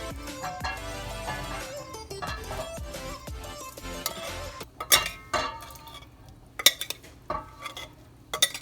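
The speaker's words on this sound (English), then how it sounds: "I'm gonna go ahead and add all this meat back to the pot." Meat goes back into a pot of Cajun jambalaya, with clinks of a metal spoon against the pot, scraping and stirring, then sharper scattered knocks and clatters as the pieces land.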